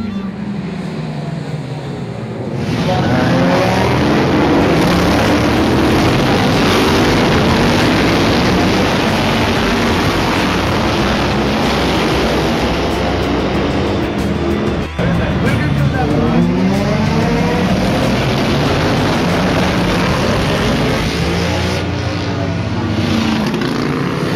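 Racing motorcycles at the Greymouth Street Races 2008, a New Zealand motorcycle street race, roar loudly and continuously as engines scream past close by, with a narrator speaking over the steady engine noise.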